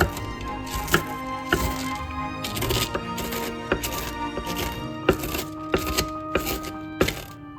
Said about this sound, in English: When the bread is fried, we cut it into the crumbs.